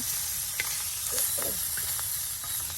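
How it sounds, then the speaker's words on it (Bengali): Pieces of fish fry until crisp in hot oil during rustic village cooking, a steady, close sizzling hiss that holds evenly throughout with small crackles and pops scattered over it. "মাছগুলো ভেজে নেওয়া হচ্ছে"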